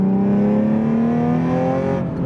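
A car engine with a Tomei catback exhaust and ISR white pipe drones loudly up close with a throaty, resonant exhaust note that rises slightly in pitch before easing off at the end.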